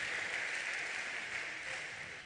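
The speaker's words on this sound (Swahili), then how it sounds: "Praise team. Hebu tuwapigie makofi." A congregation applauds the praise team at a church worship service, a steady, faint wash of many hands clapping together for a couple of seconds.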